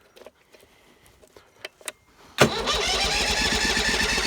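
A small gasoline engine with its choke pulled out catches and starts outdoors in snow after a few quiet clicks and fumbling sounds, then runs steadily and loudly.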